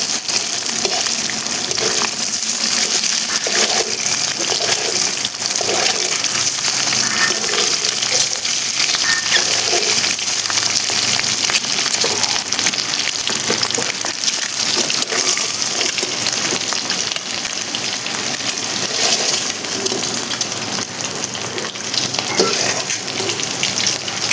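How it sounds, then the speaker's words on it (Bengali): Eight eggs fry in a pan for a Bengali egg and potato curry, producing a loud, steady hissing sizzle with scattered crackles and pops throughout, no voices over it. "ভেজে নিচ্ছি।"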